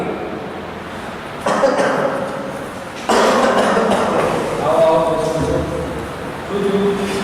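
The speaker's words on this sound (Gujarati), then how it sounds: "તને આટલી બધી ઉધરસ આવે છે" A person with a persistent, months-long cough coughs in loud harsh bursts up close, the fits arriving in uneven clusters.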